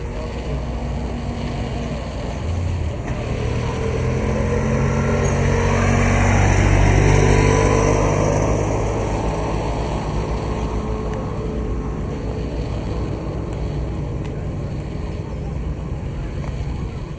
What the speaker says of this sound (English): So you've got a V12 in here.